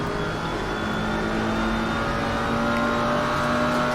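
A GT4 race car engine in a sim racing game at the Kyalami circuit drones steadily and loudly for the whole stretch, holding a high, even pitch with light wheel spin and no voices.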